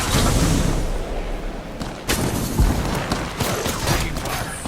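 Rapid gunfire during an Apex Legends match, with dense, continuous bursts of shots and booming impacts filling the whole stretch, loud and close.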